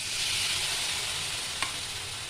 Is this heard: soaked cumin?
yes